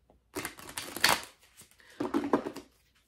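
Oracle cards are shuffled in two bursts of dense, rapid papery riffling and slapping, close up, with a short pause between them.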